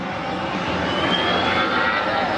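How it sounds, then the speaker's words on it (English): An Airbus A319 airliner flies close to another plane, its jet engines roaring loud and steady with a faint rising whine over the rumble. "This Airbus A319 flying really close to another plane."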